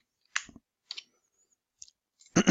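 A computer mouse clicks nearby in a quiet room, with a few crisp double-click pairs spaced apart.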